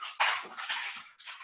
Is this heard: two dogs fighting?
yes